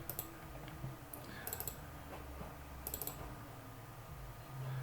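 Quick computer keyboard presses and mouse clicks while saving an image, small clusters of light plastic taps spaced apart over a faint hum, close and very quiet.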